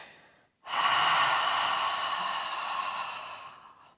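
A long, deep exhale pushed out through the mouth during a vinyasa yoga breathing exercise, steady and close, swelling quickly and then tapering off over a few seconds, with no talking.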